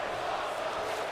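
A wrestling arena crowd in the WWE 2K25 video game cheers and chants, a dense roar of many voices holding steady for a brief moment.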